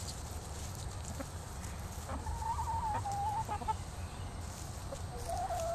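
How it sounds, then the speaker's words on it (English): An Andalusian rooster crows faintly a few times over steady background noise and low rumble, with scattered clucks from nearby chickens. "He's an Andalusian rooster."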